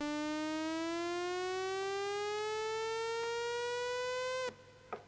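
Pitch-bending synth lead preset for a beat, a bright buzzy tone with rich harmonics sliding steadily upward for several seconds before cutting off abruptly, followed by a short faint blip.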